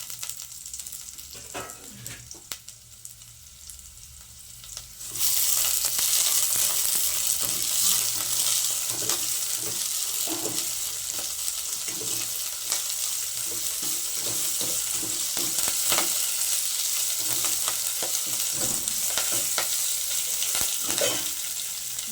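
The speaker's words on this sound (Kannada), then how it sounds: "ಫ್ರೈ ಆಗಲಿ" Onions, curry leaves and green chillies fry in a pan for a chickpea sambar. Quiet stirring sounds give way after about five seconds to a loud, steady, close-up sizzle that continues to the end.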